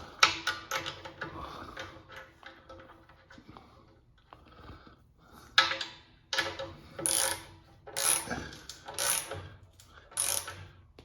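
A hand ratchet tightens the bolts that tension the belt on an Ingersoll Rand reciprocating air compressor, close and crisp, with rapid clicking bursts and pauses between strokes, later strokes louder and sharper, and no talking.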